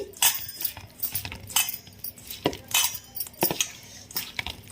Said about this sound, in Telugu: ఇప్పుడు ఇవన్నీ కూడా మంచిగా మిక్స్ చేసుకోవాలి